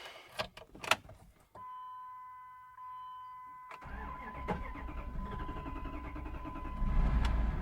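A Dodge Durango cranks with a whirring starter, then a hum takes over, and the engine catches with a low rumble that builds and runs unevenly, close by with no talk.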